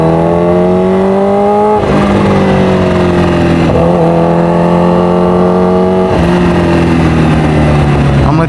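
A supercharged 326 hp Kawasaki Ninja H2R motorcycle revs hard and loud up close, each climbing whine dropping sharply before rising again in three repeated surges.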